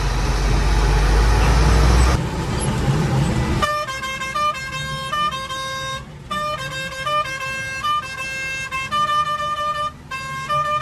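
A large loaded truck on a Konkan village road roars past close by, then sounds a long series of loud, sustained horn blasts with short gaps between them.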